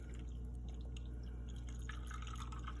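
Water from a GE refrigerator's dispenser trickles into a cup, faint and steady over a constant low hum, with the splashing growing more noticeable toward the end and no talking.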